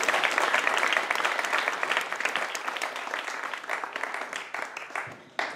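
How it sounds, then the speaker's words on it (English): An audience at an alumni story slam applauds, a dense burst of clapping that holds steady and then thins out toward the end. "can we have another round of applause for all the"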